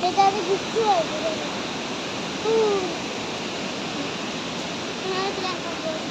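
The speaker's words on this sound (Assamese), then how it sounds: "বিভিন্ন শিলৰ মাজে মাজে বৃহৎ এটা জুৰি পাৰ হৈ আহি আছে" A large stream rushes between rocks at Rock Garden falls in Darjeeling, a steady broad roar of flowing water with a few faint bird calls above it.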